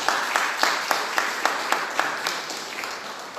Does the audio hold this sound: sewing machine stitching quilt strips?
no